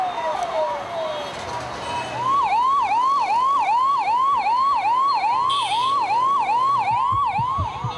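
An ambulance siren wails in a steady, rapid up-and-down cycle as it speeds a donor heart from Bangalore to Chennai along cleared roads. It starts with a slower sweep, then turns loud and close for the rest.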